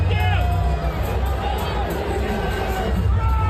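A dense crowd at the Super Bowl cheering and calling out as Trump arrives, a steady roar of many voices with whistles and shouts, loud and continuous throughout.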